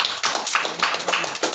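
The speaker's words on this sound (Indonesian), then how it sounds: "Oke, tepuk tangan semuanya." A group of children claps hands during a Christian children's faith class, a quick, irregular patter of many small claps that continues steadily for a moment at moderate volume.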